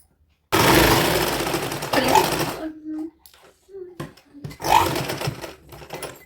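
A sewing machine stitching the side seams of a 1 to 2 year old baby girl's kurta, with three rapid rattling bursts of stitching separated by short pauses and brief low voice sounds.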